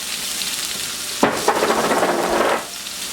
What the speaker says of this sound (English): Now you want to just saute the onions and the garlic in the oil